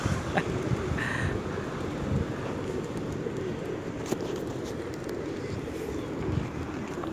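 Pigeons coo softly as they are fed outdoors, amid steady wind noise, with a few faint bird calls and rustles throughout.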